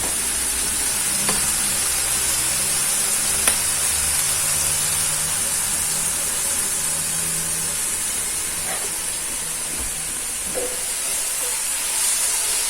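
Diced tomatoes, onions and peppers sizzle and hiss steadily in a pan, a continuous close frying sound with faint occasional clicks and no talking.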